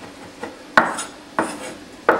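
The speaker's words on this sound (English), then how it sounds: "this is rosemary and thyme, and I'm just chopping it up" Fresh rosemary and thyme roughly chopped with a knife on a board, giving three sharp, close knocks spaced about two-thirds of a second apart with a softer tap before them.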